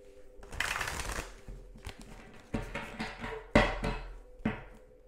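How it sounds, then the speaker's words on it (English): A bent deck of tarot cards is shuffled by hand in several quick riffling bursts with short pauses between them, close to the microphone in a quiet room. "I'm shuffling this way because like I've bent my deck"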